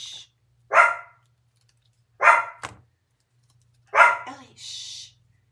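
An indoor dog barks three times, each bark loud, sharp and close, spaced about a second and a half apart, with a faint low hum between them and a brief hushing voice at the end.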